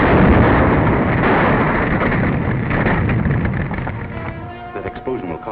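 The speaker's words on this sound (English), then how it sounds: "That explosion will cause an intense investigation." Sound-effect explosion from an old film serial, a loud broad roaring blast with a long rumbling decay under close, muffled mono sound, fading slightly toward the end.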